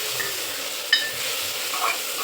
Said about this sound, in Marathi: ती पण चांगली परतून घ्यायची